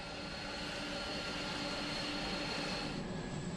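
A cargo airplane at Frankfurt airport produces a loud, steady jet engine roar, a dense broadband rumble with a persistent high whine running through it. No one speaks over it.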